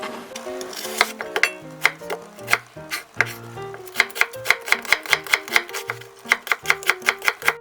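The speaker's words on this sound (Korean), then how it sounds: "양파는 이렇게 채를 썰어 주시면 됩니다" A knife slices onion into thin strips on a cutting board for kimchi, a close series of crisp, rapid chopping taps in an irregular then steady rhythm.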